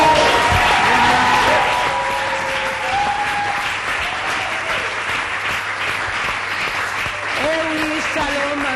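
A church congregation claps steadily and loudly through the whole stretch, with a dense wash of many hands and some voices calling out over it.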